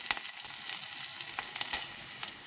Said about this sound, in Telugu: తాలింపు వేగిపోయిందండి ఇందులో కొద్దిగా ఉల్లిపాయ ముక్కలు వేసుకుని